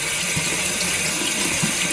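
Cold water pours steadily from a tap into a sink, a continuous close hiss and splash with no pauses.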